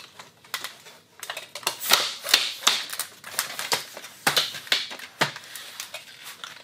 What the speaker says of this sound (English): Now I'm gonna collapse the A-frame for you as well.